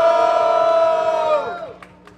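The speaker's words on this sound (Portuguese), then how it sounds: "Barulho só pra quem achou que foi Lohan, família" Crowd at a street rap battle in Rocinha roars and cheers loudly, with a sustained shouted tone that fades out over two seconds, no talking.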